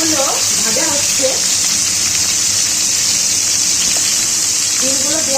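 Boiled duck eggs sizzling in hot oil in a home kitchen: a constant, close, bright frying hiss with small crackles, and a voice talking intermittently over it.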